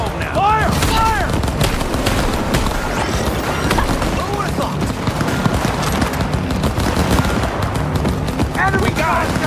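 Heavy video game battle gunfire in rapid, dense bursts with booms fills the whole stretch at close range, while voices shout over the shooting.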